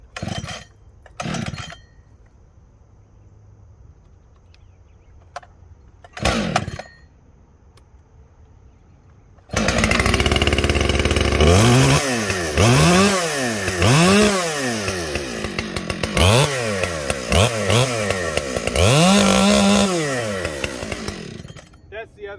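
A few short sounds over quiet background at first, then a new, not yet broken-in Husqvarna 592XP chainsaw roars to life, running loud and close with repeated revving rising and falling.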